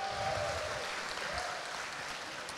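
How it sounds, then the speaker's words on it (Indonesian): An audience at UPN Veteran Jakarta applauds a stand-up comedian, a dense patter of clapping at moderate volume that fades slightly toward the end. "Boleh tepuk tangannya dulu buat saya"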